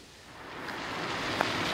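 Rain falling during a long-distance bicycle trip, a steady broadband hiss of rainfall and drops that grows slightly louder over under two seconds, with one brief sharper tap near the end and no talking.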